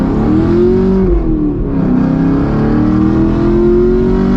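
A modified Chevy Camaro SS accelerates hard with a loud, close engine roar. The pitch climbs, dips briefly as it shifts gear, then rises again and stays strong to the end.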